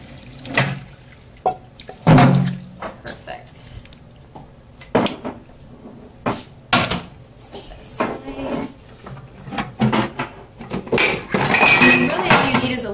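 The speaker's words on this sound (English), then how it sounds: "We're just going to drain it." Cooked pasta drained in a kitchen: water splashes and pours in bursts while pots, colander and utensils clank and clink up close, with a person talking intermittently over the clatter.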